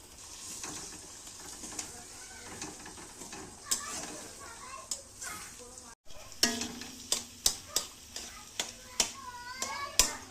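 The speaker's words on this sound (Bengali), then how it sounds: "আর একদিকে ডিমটা ভেজে নেওয়ার জন্য কড়াতে তেল দিয়ে দিলাম" An egg fries in hot oil in a wok, a continuous sizzle with sharp spattering pops that grow more frequent after a brief break, with faint background voices.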